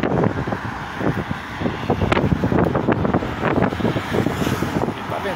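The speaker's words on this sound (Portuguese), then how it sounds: "está ventando mais de 20 por hora" Strong gusty wind of over 20 per hour on a cloudy, showery day in Santa Bárbara d'Oeste buffets the microphone in loud, rough bursts, roaring continuously with no voices.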